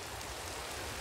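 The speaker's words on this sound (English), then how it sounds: "It's raining." Steady rain falls in a survival video game, a dense, even hiss of droplets filling the whole moment with no voices over it.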